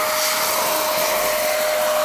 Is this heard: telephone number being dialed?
no